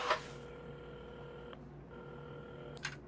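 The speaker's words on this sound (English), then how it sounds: "at the counter, Carmen had started dialing the phone" Phone dialing in the video game Assemble with Care, steady tones with soft key clicks at the start and end, faint and alone.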